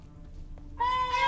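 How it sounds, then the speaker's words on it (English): Cats meow in The Witcher 3 video game, two short tonal calls that rise out of quiet background ambience, the second one sustained and brighter, with no speech over them. "I can hear them meowing."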